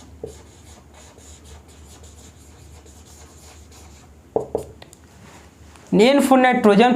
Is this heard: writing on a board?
yes